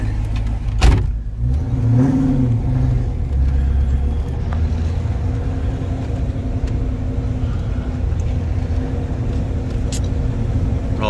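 A supercharged 1994 Ford Mustang GT V8 idles steadily up close for the whole stretch, a low rumbling engine tone with a brief sharp knock near the start and no talk.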